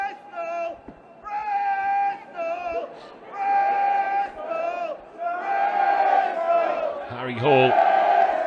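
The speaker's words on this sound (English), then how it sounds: "Great crowd underneath us." A rugby crowd in the stand at a Premiership Rugby U18 final between Saints and Bristol cheers and roars in repeated loud surges, with shouting voices rising and falling over about eight seconds.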